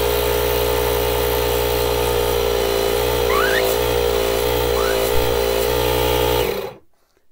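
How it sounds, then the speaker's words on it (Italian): A portable air compressor built into a JF.EGWO 2000A rechargeable jump starter runs with a loud, steady buzzing drone, holding constant for several seconds before cutting off abruptly. "Ora però vediamo la funzione di compressore, quella che ci serve per le nostre gomme, materassini eccetera, utilizzando la batteria integrata."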